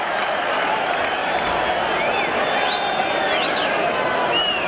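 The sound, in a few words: rugby crowd applauding and cheering a penalty decision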